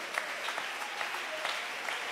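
Congregation applause during a church sermon, a steady wash of many hands clapping at moderate loudness throughout, without talk over it.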